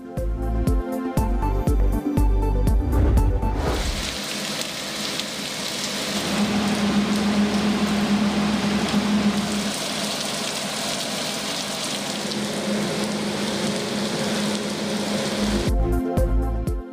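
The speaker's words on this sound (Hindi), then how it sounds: "लाहौर के मुख्तलिफ इलाकों में गरज चमक के साथ मूसलाधार बारिश।" Heavy thunderstorm downpour over Lahore, a dense, steady roar of rain that holds at an even loudness for about twelve seconds, framed by brief musical news stings at the start and end.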